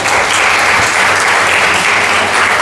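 A church congregation applauding during a Sunday worship service to welcome a child into a family, dense, loud, continuous clapping that fills the whole moment without any voices over it.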